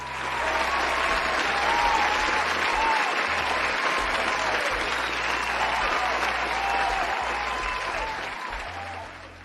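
Sustained applause from a studio audience on a dating talk show, steady and full for several seconds before tapering slightly at the end, with faint voices underneath.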